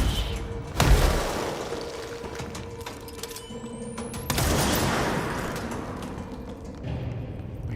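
Exploding enemies in the video game Control, with two heavy bursts a few seconds apart, each a loud blast trailing off into a rumbling, crackling decay amid lingering game ambience.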